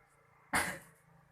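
A single sharp cough, close and fairly loud, after a moment of quiet, then fading out, during a postural drainage session.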